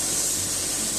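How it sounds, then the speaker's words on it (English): Spray paint hisses steadily from a can onto sandblasted stone through a stencil, a loud, close, unbroken airy spray lasting about a second. "we're spraying the paint"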